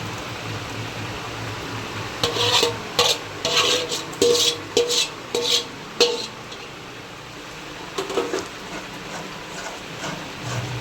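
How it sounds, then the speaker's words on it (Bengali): A spoon scrapes and knocks repeatedly through a sticky sesame laddu mixture cooking with milk in a pan, a cluster of close stirring strokes over a soft background hiss, then a brief pause and a few more strokes. "দুধটাকে দিয়ে আমি এইভাবে চালিয়ে চালিয়ে পুরো একদম নেড়ে নেড়ে একদম শুকিয়ে নেবো।"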